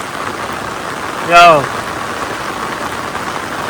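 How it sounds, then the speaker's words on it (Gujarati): Heavy rain pours down at night, a steady loud hiss throughout, with a brief spoken word from a man partway through. "ભાઈ આટલો રવાનો તો અમારે આખા વરામાં નથી આવ્યો એવો વરસે છે અટાણે"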